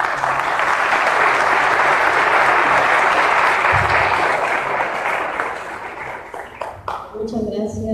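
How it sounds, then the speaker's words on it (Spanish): Audience applause at a formal event in a courthouse setting, presenting a journal on gender equality and vulnerable groups: sustained, dense clapping that fills most of the stretch, then thins into scattered claps near the end. "Les pido un aplauso,"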